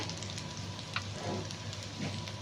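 Ginger-garlic paste frying in a pan, a soft continuous sizzle and crackle that holds steady throughout, fairly quiet and close, with no talking.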